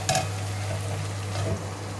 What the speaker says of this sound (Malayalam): ചേരുവകളെല്ലാം ചേർത്ത് നമ്മൾ നല്ലപോലെ ഇളക്കി കൂട്ടി യോജിപ്പിച്ച് അടച്ചു വെക്കുക